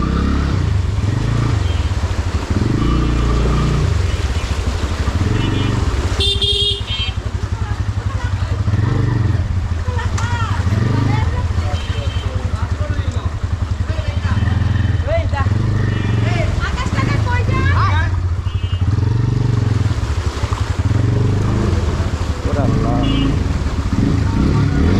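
A trawler-style engine vehicle rumbles steadily through the streets of Dhaka, a loud continuous low-pitched drone with clattering and revving surges, heard close throughout under people talking.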